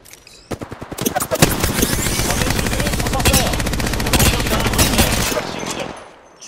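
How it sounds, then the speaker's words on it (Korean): Sustained automatic gunfire from Apex Legends rattles in loud, rapid bursts for several seconds, dense overlapping shots with a few sharp single cracks at the start before the firing cuts off. "멍청이들이 날 쏘고 있잖아"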